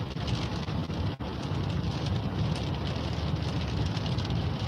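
Steady rain falls with a dense, even hiss and patter, moderately loud and continuous, with one brief dropout.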